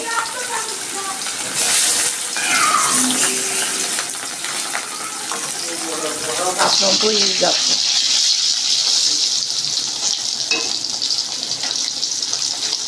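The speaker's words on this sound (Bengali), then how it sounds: "আমার তেল গরম হয়ে গেছে আমি মাছটা দিয়ে দিচ্ছি" Fish, rubbed with salt and turmeric, goes into hot oil and fries with a hissing sizzle that swells partway through, mixed with some clattering and a voice talking.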